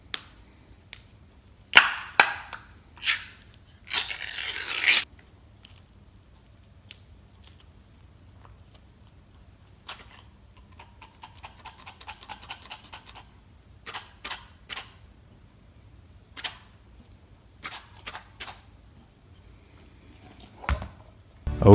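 A knife cuts Spam into half-inch slices, giving sharp close chops and slicing scrapes in irregular bursts separated by quiet gaps, with no talking.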